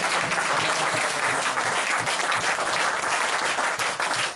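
A church congregation applauds in a sustained, dense wave of clapping that fills the room, loud and steady throughout.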